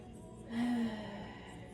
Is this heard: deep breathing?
yes